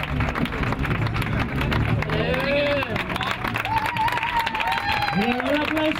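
Crowd applause at an outdoor trophy ceremony for an obstacle race in Valencia, steady clapping and cheering under busy crowd chatter, with a loud voice talking over the noise throughout.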